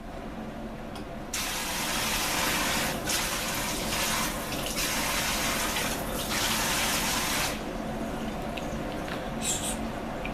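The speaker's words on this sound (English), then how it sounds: "I want to get my leather wet" Tap water runs steadily over a piece of vegetable-tanned leather being wetted, a broad hiss that starts abruptly about a second in, holds for around six seconds, then stops, with a brief trickle near the end.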